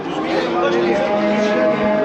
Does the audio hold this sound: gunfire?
no